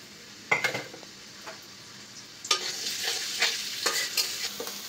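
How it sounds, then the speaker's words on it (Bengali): Chopped onions with green chillies fry in a pan for a Bengali chachchari, giving a soft steady sizzle broken by several sharp scraping stirs, the last few seconds busier and louder. "পেঁয়াজ ভাজা হয়ে গেছে"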